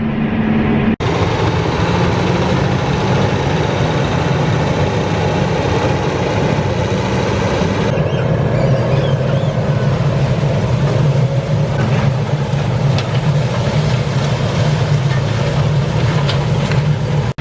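A 610-horsepower tractor's heavy diesel engine rumbles steadily and loudly throughout, a deep continuous drone with a brief jolt near the start and no voices.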